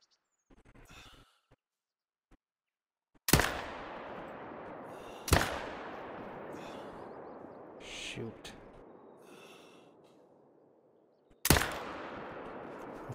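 Hunting rifle shots fired at a tiger on the Revontuli Coast in Call of the Wild: three sharp, loud cracks spaced several seconds apart, each trailing into a long echoing decay, with faint rustling between.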